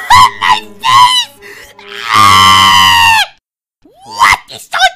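A high, sustained scream lasts about a second, loud and alone, set among shorter cartoonish vocal cries and exclaimed speech.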